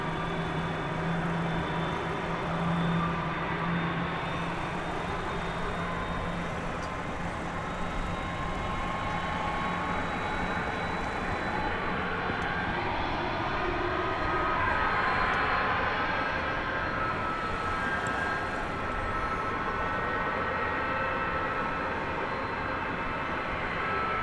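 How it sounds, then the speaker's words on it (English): Airbus A300 jet at DFW Airport at night, a distant broad roar of engines that holds steady for a long stretch, swelling slightly midway, with faint whining tones over a low rumble and no talk. "There is that A300 we told you about just a few minutes ago."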